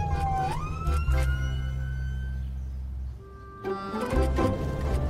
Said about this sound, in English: it is funny when you have to put the siren on